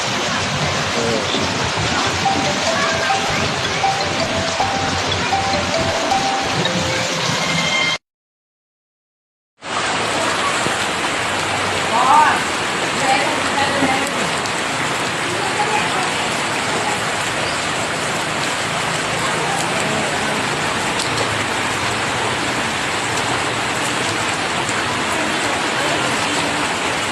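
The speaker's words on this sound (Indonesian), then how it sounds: "Hujan deras yang mengguyur Jakarta sejak siang hari tadi memicu banjir di beberapa titik kota." Heavy rain pours steadily during a flood in Jakarta, a loud continuous hiss of rain hitting surfaces that cuts out briefly for a moment of silence, then resumes unchanged.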